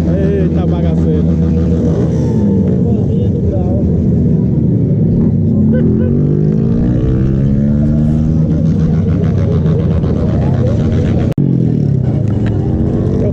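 A Honda XRE300 motorcycle ridden on its back wheel at a stunt riding event, engine rising and falling in repeated revving sweeps with a loud, close rumble. People talk over it throughout, and there is a sharp knock near the end.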